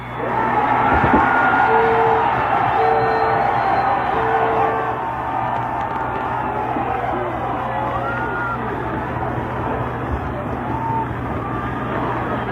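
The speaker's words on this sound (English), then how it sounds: "perhaps you can tell from the roar of the crowd on the last play" A crowd roars at a high school football game between Glynn Academy and Avondale, a loud, sustained swell of cheering and yelling that fades slightly but keeps going throughout, with no talk over it.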